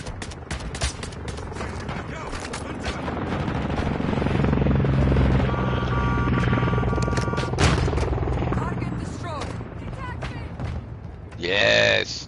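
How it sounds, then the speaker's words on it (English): Helicopter overhead in Modern Warfare III, a sustained rotor drone building and peaking midway under scattered gunfire bursts, with a radio-style voice and game sounds near the end. "Hostile overwatch helo in the area."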